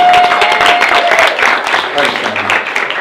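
Applause at a wedding speech in honour of the bride's dress, a steady burst of clapping from the guests that fills the room and holds for about three seconds.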